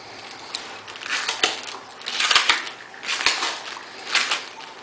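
Section of gasket material being cut, a series of crisp crunching, snipping sounds in irregular bursts close up, with no talk.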